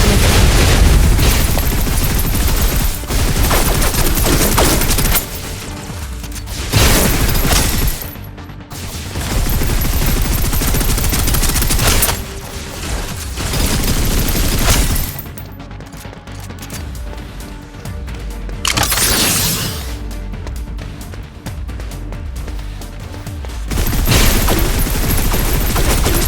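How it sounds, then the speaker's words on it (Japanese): Suppressive gunfire blasts through the Snowbreak video game combat, with dense, continuous automatic fire and booming impacts that run loud for nearly the whole stretch, easing off only in brief gaps. "制圧射撃を始める。"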